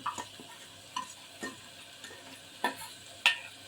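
Ground coconut is stirred into a simmering whole moong kadhi, with faint, soft spoon scrapes and taps recurring every half second or so over a quiet background.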